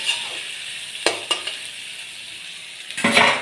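Spoon stirring a spiced vegetarian paneer dish in a pan, with a soft sizzle underneath and a few sharp scraping clinks against the pan, close and without talk.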